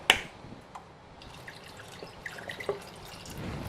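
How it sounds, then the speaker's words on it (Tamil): Water trickles and drips into a pot of drumsticks, with small splashes and light clinks, fairly quiet and close by. "தேவையான அளவு தண்ணி ஊற்றிக்கலாம்"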